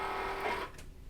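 A Cricut cutting machine unloading its mat after cutting faux leather for earrings gives a brief, close mechanical whirr of motor and rollers that stops abruptly, leaving near silence.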